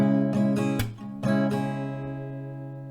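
An acoustic guitar strummed in a down, down, up, clap, down, up pattern, with several close strums, a percussive clap and a ringing chord fading out at the end.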